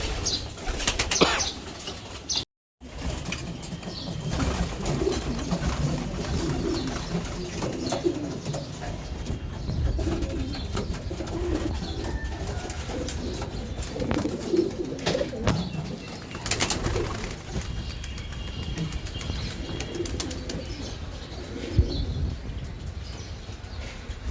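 Racing pigeons at a farm coo steadily while wings flap and flutter in bursts, a dense flock sound that is close, loud and continuous throughout.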